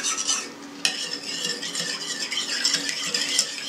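A spoon stirs rehydrated yeast in a bowl, making continuous close swishing and scraping with a sharp clink against the side partway through.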